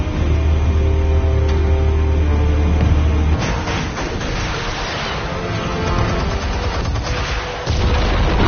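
Explosives detonating in Batman: The Telltale Series game: loud, booming blasts with rumbling, crackling debris and a low droning hum at first, continuous and close with no talk.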